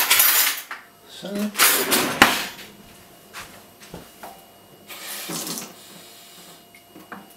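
Tap water runs into a kitchen sink in uneven bursts, close and fairly loud, with brief clinks of cutlery between the flows.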